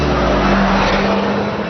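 A Mitsubishi Lancer Evolution with all-wheel drive howls at full throttle on a race track, its engine note loud, steady and close for a brief moment, with no voices.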